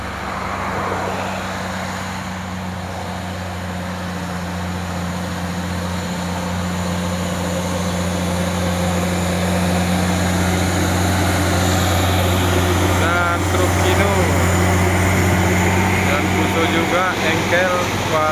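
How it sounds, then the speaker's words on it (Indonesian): A loaded Fuso intercooler CPO tanker truck, a 4x2 single-axle rig, labors up a steep hill, its engine drone steady and close with a strong low hum that swells slightly as it climbs amid road noise. "Ini ada truk tangki Fuso"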